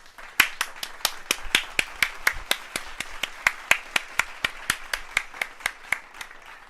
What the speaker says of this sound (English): Everyone, clap your hands, clap your hands.